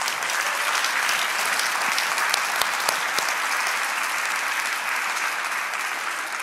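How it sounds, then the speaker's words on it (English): A church congregation claps and applauds together in a sustained, dense burst of hand claps that stays steady and fairly loud throughout, with a few sharper individual claps standing out. "Let's give the Lord a hand clap."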